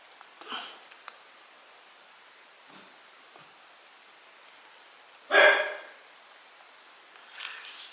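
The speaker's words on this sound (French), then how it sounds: "j'ai un chien qui n'est pas content, qui veut sortir" An indoor dog gives a few short, sharp barks and sniffs, wanting to go outside, spaced apart with one louder bark near the middle and quiet pauses between.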